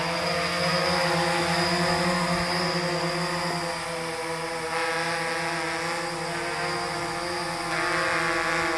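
A Blade 350 QX3 quadcopter drone's rotors spin up and hold a steady, loud buzzing whine with tonal harmonics, sustained and close throughout.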